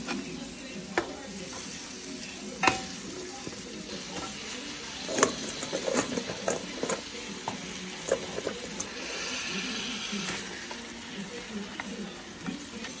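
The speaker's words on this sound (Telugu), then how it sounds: "ఇప్పుడు దీంట్లో పీతల ముక్కలు వేసేసుకోండి" Crab pieces sizzle in a pan of crab curry base with turmeric while a spoon stirs them, a faint steady frying hiss broken by repeated scraping clicks, with no talk.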